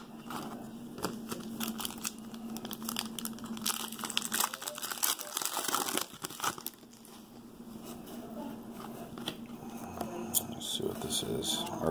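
2014 Prestige football trading card packs being opened and handled: continuous crinkling and tearing of foil wrappers, close and moderately loud, with someone talking over the rustling.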